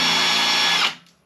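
A power drill bores into metal for a mini gooseneck trailer build, a loud steady whine that stops abruptly near the end and fades out.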